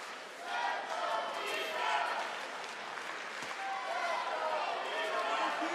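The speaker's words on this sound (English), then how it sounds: "Now the chant from the crowd comes in" At a BJJ team dual match, a large crowd keeps up a continuous chant and cheer, steady and moderately loud throughout, with a commentator speaking over it.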